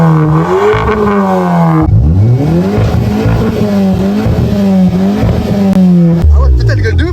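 A Volkswagen Golf 7 GTI with a loud modified setup revs hard and close, its engine climbing and falling in repeated sweeping pulls with crackles between, while people talk in the background.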